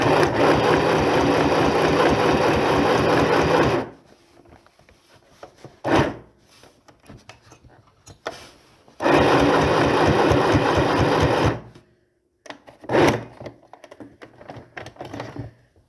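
A sewing machine stitches tote bag fabric in two fast, rattling bursts, separated by quieter handling sounds and a few soft clicks and bumps.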